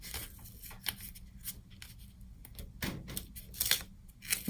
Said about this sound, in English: Now it's time to remove all of the masking tape.